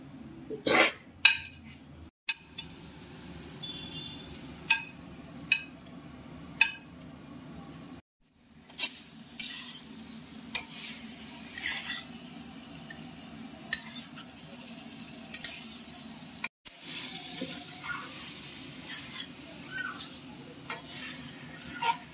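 Duck eggs and fried potatoes are stirred into a grape spice paste in a pan, a soft scraping stir with light sizzling and several sharp clinks of a utensil against the pot, brief pauses between passes.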